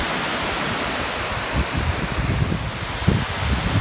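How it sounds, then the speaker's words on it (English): The San Antonio River rushes steadily near the Spanish-built Espada Dam, a continuous broadband wash of flowing water that roughens and swells slightly in the second half, with no voices. "This is just the San Antonio River."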